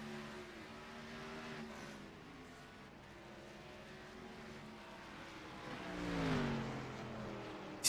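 Race cars drive through a chicane at Circuit de Gilles Villeneuve in a racing video game. Engine whine rises and falls in pitch, and one car sweeps closer and louder near the end.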